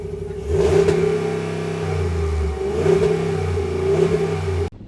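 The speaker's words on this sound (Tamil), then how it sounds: "இந்த இன்ஜின் ஆக்சுவலி நம்ம ஸ்டார்ட் பண்ணி பார்ப்போம்." A Ram truck's V8 engine, rated at 400 bhp and 550 lb-ft of torque, starts up and idles loudly close by, with two sharp rev bursts rising above the steady rumble.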